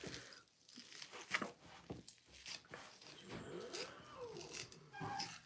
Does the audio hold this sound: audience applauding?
no